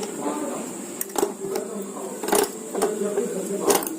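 A sewing machine stitches a curved round seam on a kurti in short, repeated bursts of rapid stitching with brief pauses between runs, close by, with a voice at times.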